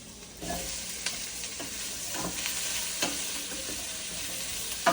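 Potatoes sautéing in a pan on a home stove: a steady sizzle and hiss throughout, with several soft scraping stirs of a utensil against the pan, close and alone without talk.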